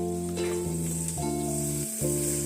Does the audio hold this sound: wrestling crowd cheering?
no